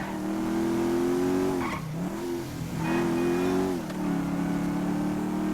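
A motorcycle engine in the GTA V video game revs loudly and continuously, its pitch rising and dipping several times, with no talking over it.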